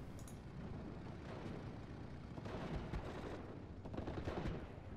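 Battle gunfire from Steel Division: Normandy 44 at Pointe du Hoc, with distant rolling machine-gun bursts and muffled explosions swelling in waves at moderate volume.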